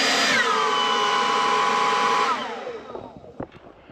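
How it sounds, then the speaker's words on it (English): A leaf blower, used to drive a larger-size dry washer, runs with a loud, steady high whine, then winds down after a couple of seconds, leaving a few clanks and rattles. "that's a pretty good blower right there"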